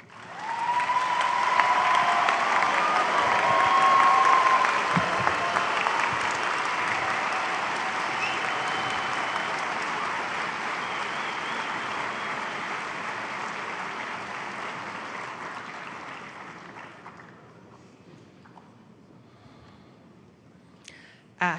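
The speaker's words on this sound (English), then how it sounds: "I think it's a good time for a round of applause" A large audience at a spring university convocation ceremony claps in sustained applause, loud and dense at first, then gradually thinning and fading toward the end.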